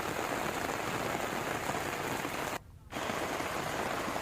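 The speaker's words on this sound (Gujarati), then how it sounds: "પાટણના હારીજમાં મેઘરાજાએ વિરામ બાદ હવે એન્ટ્રી કરી" Steady, dense rain pours down in Harij, Patan, a continuous close hiss of drops on surfaces that cuts out briefly for a fraction of a second before resuming.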